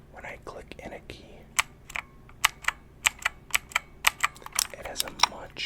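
Mechanical keyboard keys click in a quick irregular series of sharp, close taps, with soft whispering in the background.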